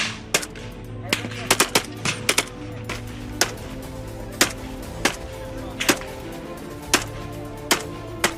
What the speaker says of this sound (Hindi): बलूचिस्तान में गोलियों की बौछार थमने का नाम नहीं ले रही है।